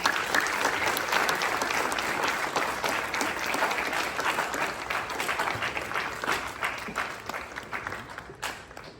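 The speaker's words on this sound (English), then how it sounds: "Can we have a round of applause, please?" Sustained applause from an audience at a school quiz event fills the hall, steady and dense for about nine seconds before thinning slightly at the end.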